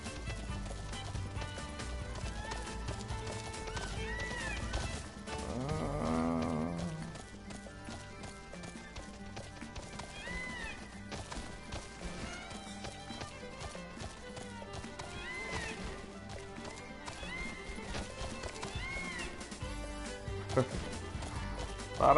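A chocobo runs in a Final Fantasy game, its quick rhythmic clip-clopping footsteps continuing steadily for over twenty seconds beneath a voice talking throughout.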